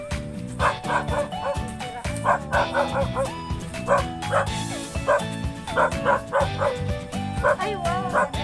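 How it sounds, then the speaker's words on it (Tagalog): A dog at the beach barks and yips repeatedly in short bursts, fairly close, with whimpering notes between the barks, while people talk over it. "Baka may aso."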